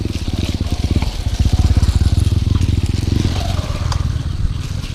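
A motorcycle engine putters loudly and close by on the road, a throbbing low beat that swells as it passes, with a scrape and clatter of road noise underneath.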